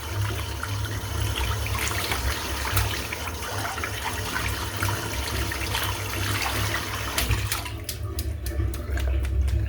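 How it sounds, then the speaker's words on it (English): Tap water runs steadily into a sink while a shaving brush is rinsed out, a continuous close splashing and trickling with a few brief spatters toward the end. "Cleaning the brush out."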